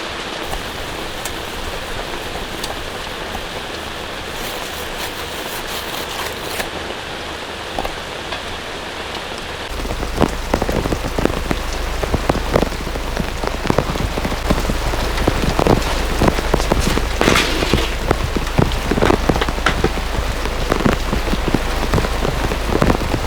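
Rain pours onto a camper during a downpour on a rainy camping trip: a dense, continuous patter of drops on the roof that grows noticeably heavier and louder partway through, with no voices.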